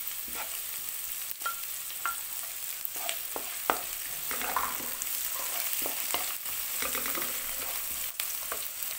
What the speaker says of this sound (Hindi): अब हम प्याज ऐड करेंगे, हरा प्याज, उसका सफ़ेद हिस्सा जो है वो हमने काट के रखा है।